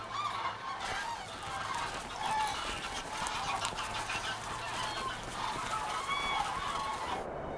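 Flock of geese and cranes calling together, a dense continuous chorus of honking and trumpeting cries at moderate distance, with no talk.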